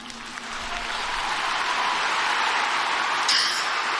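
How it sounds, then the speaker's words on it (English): A large crowd at a memorial for Charlie Kirk applauds in a broad, unbroken wash that swells slightly and holds steady, with a brief higher tone near the end. "the applause just went on forever"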